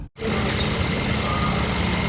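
A car engine idles steadily after its fuel injectors were replaced, a smooth, even running hum that holds constant after a brief dropout at the very start, with no talking over it.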